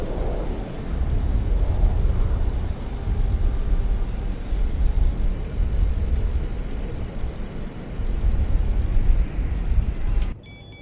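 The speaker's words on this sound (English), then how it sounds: "Starting pushback, and you may start engines." Jet engines spool up on a Boeing 737 during pushback in the X-Plane flight simulator, a steady loud broadband roar that holds throughout and cuts off abruptly near the end, with no talk.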